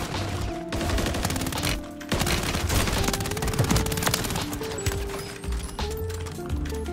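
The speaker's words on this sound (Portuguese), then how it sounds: "Ó, tiro de todo lado, agitadão" Gunfire rattles in rapid bursts and overlapping shots in the video game Warzone 3, loud and close, with busy battle noise filling the gaps.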